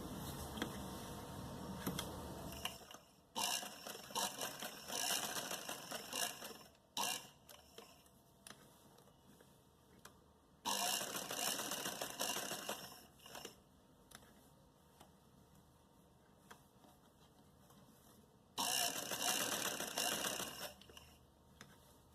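A sewing machine stitching a decorative hem design on a salwar cuff runs in three faint bursts of rapid mechanical clatter, separated by quiet pauses.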